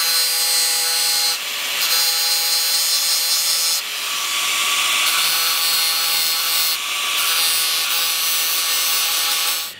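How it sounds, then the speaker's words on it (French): An angle grinder grinds the inner corners of forged plier jaws, a steady bright metallic whine running continuously with small pitch shifts as the disc presses and lifts against the steel, close and loud, with no talk. "je mets un dernier coup de meuleuse sur les angles intérieurs des mâchoires"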